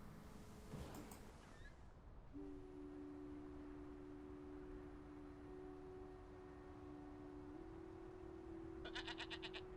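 A single sustained bleat from a goat in the Norwegian fjord setting of the game Draugen, a steady drawn-out tone that holds for several seconds over quiet ambient background, with a brief rustle at the start.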